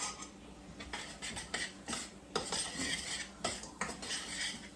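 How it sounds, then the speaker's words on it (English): A spoon scrapes and clinks against a pot as a flour mixture for beef pot pie filling is stirred, giving irregular metallic taps and scrapes close up, with no talking. "I don't want it to burn. So I'm stirring it constantly"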